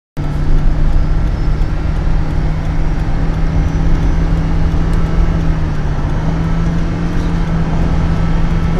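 A Toyota Prius cruises fast on the autobahn at around 135 to 140 km/h, its cabin filled with a loud, steady roar of road and wind noise and a constant low engine drone.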